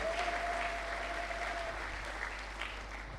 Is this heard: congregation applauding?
yes